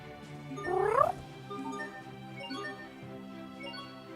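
A cat meows once, loud and drawn out, in the video game Tales of Graces F. Soft game music plays steadily underneath.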